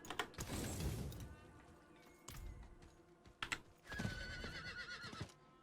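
A horse whinnies loudly in Diablo 4, followed by scattered keyboard clicks and game effects with pauses between them.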